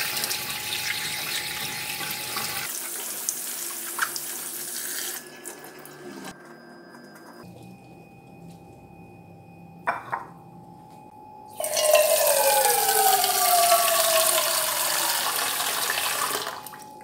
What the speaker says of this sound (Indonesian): Tadi kan di kemasannya ada airnya kan, jadi rada bau sampai bersih ya nyucinya guys.